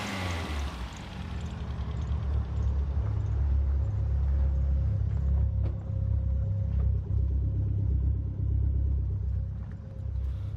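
A Dodge Spirit with a Turbo Dodge transmission runs in a garage, its engine giving a steady, loud low rumble throughout with a faint whine riding above, close and continuous without any talk.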